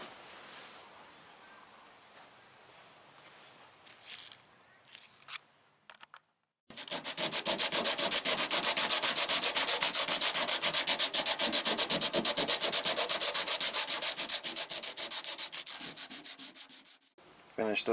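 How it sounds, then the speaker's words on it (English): 80 grit sandpaper scrapes steadily over filler on a rusted car trunk gutter: quiet handling and shuffling first, then a brief silence, then a long, loud, rhythmic run of rapid back-and-forth sanding strokes close up. "we're going to take some 80 grit and start sanding it down"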